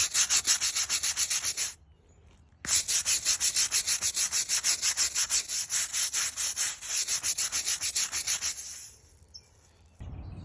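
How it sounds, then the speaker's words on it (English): A deck brush scrubbing a moldy brick walkway, loud close rhythmic back-and-forth rasping strokes in fast runs, broken by a short pause near the start and another near the end. "it also occurred to me as I'm sitting there scrubbing that, of course, the deck brush wouldn't be getting in the grout or the mortar"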